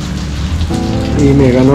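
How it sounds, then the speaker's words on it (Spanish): Steady, fairly loud rain falls on a surface close by, a dense continuous patter with faint tonal sounds running beneath it. "Y me ganó la lluvia."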